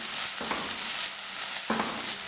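Vegetables for crispy vegetable cutlets sauté in a frying pan, a steady close sizzle with two brief stirring scrapes, no talk.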